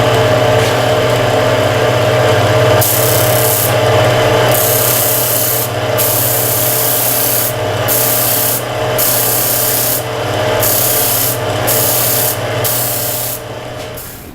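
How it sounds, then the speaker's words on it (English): Hand sanding on a wooden carved-top guitar neck, a loud, close, continuous rasping rub with brief breaks as the strokes change, no voices. "So let's go ahead and sand this out."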